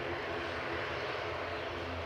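A WestJet Boeing 737 MAX 8 airliner arrives at an airport, its jet engines giving a steady, moderately distant roar that fills the whole stretch without pause.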